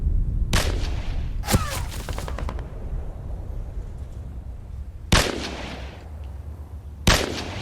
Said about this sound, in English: So they're still shooting at the infantry down there